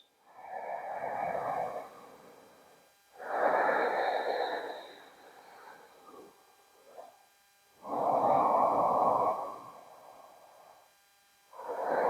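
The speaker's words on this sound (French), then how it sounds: "Installe de la conscience dans la respiration avec Ujjayi, ce souffle un peu freiné au fond de la gorge." Slow Ujjayi yoga breathing drawn through a constricted throat: three long, loud, rasping breath cycles, each a few seconds with short quiet pauses between, close and without talk.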